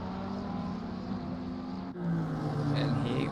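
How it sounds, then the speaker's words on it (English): Onboard engine of a Porsche GT3 race car at Misano in Assetto Corsa Competizione, a loud, droning roar that dips at a gear change and then climbs again as the car accelerates. "We're on board listening to some of this Porsche engine noises"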